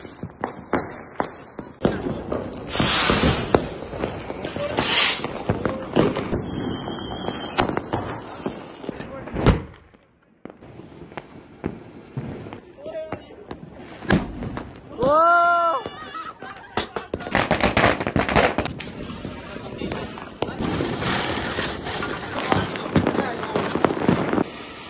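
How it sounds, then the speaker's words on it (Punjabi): Diwali fireworks and firecrackers go off in Batala, with sharp bangs, crackling bursts and a rising rocket whistle scattered across the stretch, some near and some farther off, while people talk in between. "ਸਾਰੇ ਪਟਾਕੇ ਛੱਟੇ ਯਾਰ ਸਾਰੇ ਨੇ ਪਟਾਕੇ ਲਾਏ"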